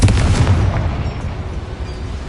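A Confringo fire spell cast in a mine in Hogwarts Legacy, a loud, close explosive boom followed by a decaying rumble, with no voices.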